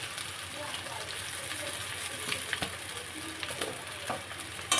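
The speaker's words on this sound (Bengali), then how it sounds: "এইভাবে আস্তে আস্তে নাড়াচাড়া করে একেবারে আস্তে আস্তে ভেজে নেব" Egg chow mein sizzles in a pan as it is slowly stirred and fried, a soft continuous crackle with light scraping and faint clinks, fairly quiet throughout.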